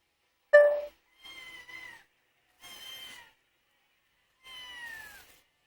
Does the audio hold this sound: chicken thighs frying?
no